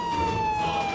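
A loud, continuous ambulance siren wails steadily with a high, sustained tone, heard up close without any talking.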